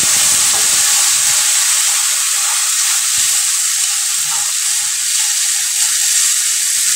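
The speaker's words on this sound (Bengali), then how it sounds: "আমি এবার এর ভিতরে দিয়ে দেবো জল।" Water poured into a pan of frying prawns with figs sets off a loud, steady sizzle with steamy hiss that holds strongly and evenly throughout, with no voices.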